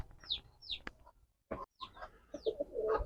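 A pair of racer pigeons kept in a case give soft coos and chirpy calls nearby. The calls come in irregular short bursts with brief pauses between them, and no one speaks.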